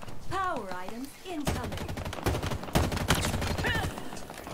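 Bursts of battle rifle fire from the Halo Infinite video game, sharp repeated shots crackling through busy in-game action, with a voice talking over parts of it.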